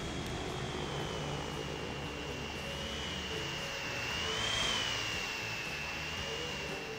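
A jet airliner in Transport Fever 2 roars on takeoff, a steady high whine over a broad engine rush that swells around the middle and eases off, heard alone without talk.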